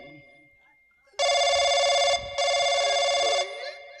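A telephone rings loudly in two bright electronic bursts separated by a short gap, following a faint voice at the start, during a staged Nautanki folk theatre performance.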